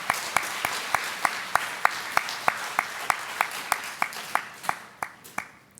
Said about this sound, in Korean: 박수로 화답할까요?